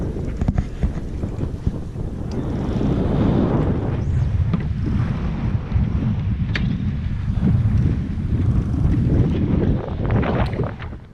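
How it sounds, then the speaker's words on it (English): Strong wind buffets a sailboat at anchor among the British Virgin Islands, a steady loud roar with gusting rumble and microphone buffeting throughout, no voices. "Very windy."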